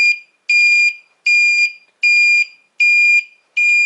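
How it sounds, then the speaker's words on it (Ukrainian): Five evenly spaced electronic beeps from an electric scooter's turn signal buzzer, loud and shrill, each lasting about half a second with short silences between, in a steady repeating rhythm. "Вмикаємо показчик поворотів."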